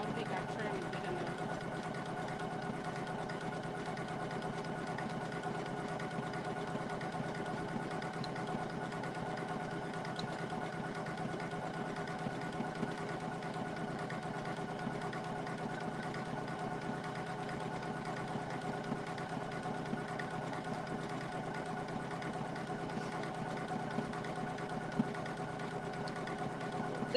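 A Poolin EOC06 single-needle embroidery machine stitching fabric, giving a steady, fast mechanical whir with an even rhythmic clatter that holds close and constant throughout.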